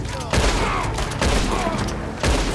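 Gunshots in Red Dead Online, three loud sharp reports spaced about a second apart as a player tries to shoot a hanging rope, with busy game ambience between them.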